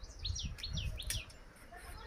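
Several quick, high chirps come from birds near trees, faint and somewhat distant over a low background rumble, in a short burst that then fades.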